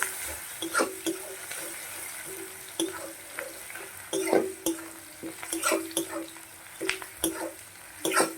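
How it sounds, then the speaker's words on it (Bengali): Chopped onions fry in a pan with a continuous sizzle, broken by repeated sharp scraping and clacking strokes as they are stirred up close. "তারপরে আমি দিয়ে দিচ্ছি পেঁয়াজ কুচি, এবার এটা লাল করে ভেজে নিচ্ছি"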